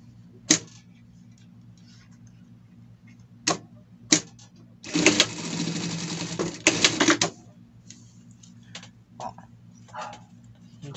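A sewing machine runs a short burst stitching a finishing seam on a costume, flanked by isolated clicks and taps, with a person talking quietly nearby.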